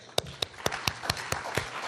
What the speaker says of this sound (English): Please give a clap